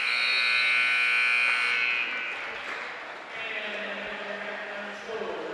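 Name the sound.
basketball game buzzer sounding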